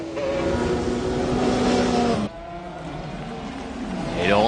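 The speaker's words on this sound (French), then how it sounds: "Quel freinage de Gigi Leto, tout en travers à l'abord de la 2e chicane." A McLaren race car brakes hard into a chicane at the 24 Hours of Le Mans, its engine note dropping sharply before a quieter stretch. Another engine swells near the end.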